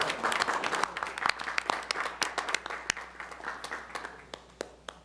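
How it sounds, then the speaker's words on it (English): An audience at a village board meeting in Hanover Park claps in a steady round of applause, with sharp individual claps standing out over the crowd, fairly close and sustained for several seconds. "Please applaud."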